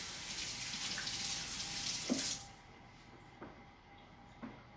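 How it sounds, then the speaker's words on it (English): Hands are rinsed under a running kitchen tap for about two seconds, a close rushing of water that then stops. A few faint knocks and drips follow in a quiet room. "I'm gonna rinse my hands."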